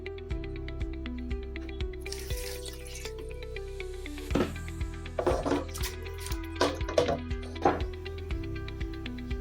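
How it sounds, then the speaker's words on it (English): Water splashes and trickles into a pot of meat for Nigerian stew in several uneven bursts over a steady low hum, with occasional clinks of cookware. "at this point we'll be adding water enough to cook the meat"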